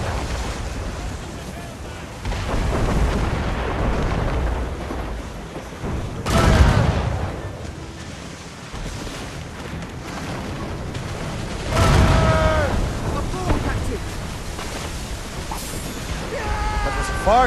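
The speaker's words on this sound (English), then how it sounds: "Cannon ready!" Ship cannons boom in a naval battle in Assassin's Creed Rogue, with several heavy blasts and rumbling impacts, notably around the middle and later, under battle music, shouted orders and other voices.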